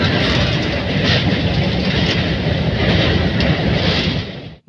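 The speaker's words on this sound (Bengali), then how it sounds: "বর্ধমান থেকে আমরা ট্রেনে উঠে পড়েছি" A passenger train leaving Bardhaman rumbles loudly and steadily from inside the carriage, with a continuous rolling roar and faint rail clatter that cuts off abruptly at the end.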